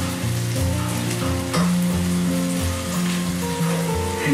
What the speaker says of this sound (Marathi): कांदा व्यवस्थितरित्या भाजायला पाहिजे